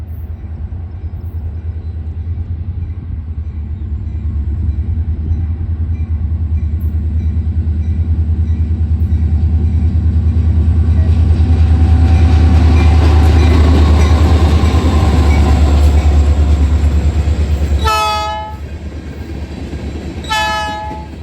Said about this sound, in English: here comes the Franklin Loco LO4.